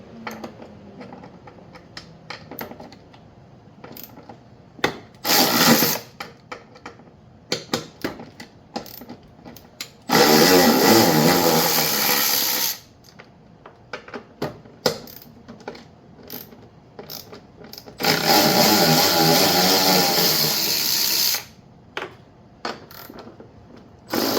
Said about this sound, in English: Let's get all the 10 mil bolts out first.